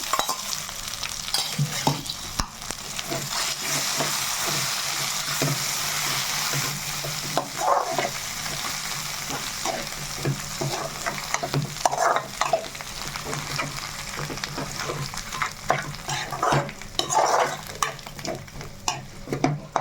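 A tempering of spices sizzles in hot oil in a pan while a spoon stirs and scrapes repeatedly, giving a steady frying hiss broken by clicking strokes; a dog barks faintly at times.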